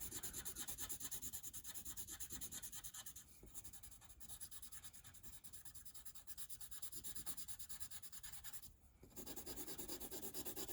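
Graphite pencil shading back and forth across paper as a value scale is filled in toward a dark black, a steady close scratchy rubbing that continues almost unbroken with two brief pauses.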